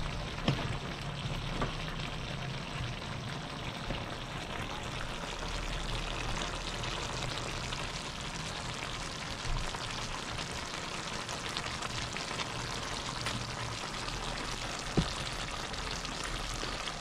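Pork igado simmers uncovered in a pan with vinegar, a steady soft bubbling and light sizzle running evenly throughout with a few faint clicks and no talking.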